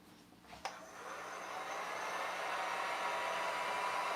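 A heat gun or hair dryer drying fresh paint on an upcycled tin can, switching on after a click and blowing as a steady, close, rushing whoosh.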